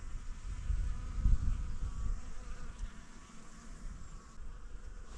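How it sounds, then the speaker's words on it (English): A swarm of bees buzzing around a nest near rotten, leaning trees, a continuous droning hum at moderate level that swells briefly early on and then holds steady, with no talking. "Are those bees? Is there a bee nest somewhere?"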